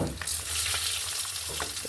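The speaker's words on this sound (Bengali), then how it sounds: "মাছ অলরেডি ভাজা হয়ে গেছে তিন পিস আর এখানে তিন পিস ভাজা হচ্ছে" Three pieces of fish sizzle and crackle steadily in hot oil in a pan, a close, continuous frying hiss with no talk.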